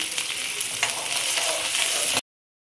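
Ginger garlic paste fries in a pan for egg fried rice, giving a loud, close hiss with a few stirring scrapes for about two seconds before it cuts off abruptly to silence.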